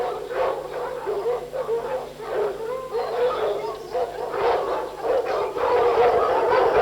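A pack of hunting hounds in their kennel barks, yelps and howls together in a continuous, loud, overlapping chorus that swells and dips without a break.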